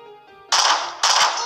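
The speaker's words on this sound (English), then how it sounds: "what are they shooting at?" Gunfire in the battle royale game Garena Free Fire: two loud, close bursts of rapid shots about half a second apart, each ringing on briefly, with faint game sound before them and no talk.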